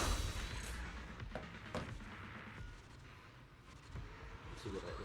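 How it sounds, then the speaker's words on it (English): Cannon fire in the video game Deadly Assault: Defiler, heavy booms and thuds within a dense, loud wash of in-game noise, several blasts spread across the stretch. "that Kaboom, the cannon, is ridiculous."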